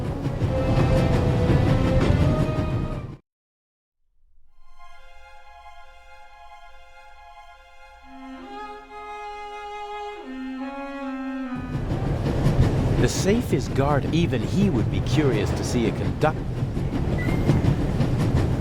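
Inside a moving train in The Raven video game: steady rumbling carriage noise fading out for a moment under a rising musical tone, then returning louder, with voices talking over it.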